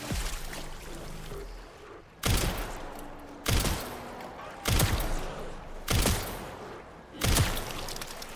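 Five loud, sharp video game gunshots fire one at a time, roughly a second apart, each with a short echoing tail, over a low steady background.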